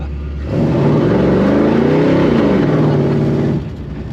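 A custom 1939 Chevy coupe engine revs hard in a burnout, holding a loud sustained roar for about three seconds with rising and falling pitch before dropping back to a rumbling idle.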